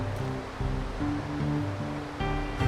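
The Kinsø river on Hardangervidda rushes steadily, making a continuous broadband roar with low rumbling close by.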